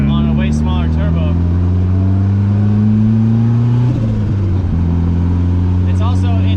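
A Datsun 510 with a turbocharged SR20DET engine accelerates hard, its loud engine drone climbing steadily in pitch, dipping briefly as it shifts, then pulling upward again.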